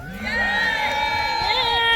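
A festival crowd at Arundel Castle cheers for the medieval knights at a history event, with many overlapping shouts and whoops that stay loud and dense throughout.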